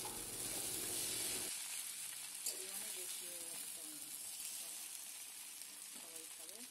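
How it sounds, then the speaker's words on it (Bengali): Chicken chowmein with lemon juice being stirred in a hot pan: loud sizzling and frying at first, then softer hissing with scraping stir strokes, while a voice talks over it. "লেবুর রসটাকে ভালো করে চাউমিনের সঙ্গে মিশিয়ে দেওয়ার জন্য ভালো করে নাড়তে"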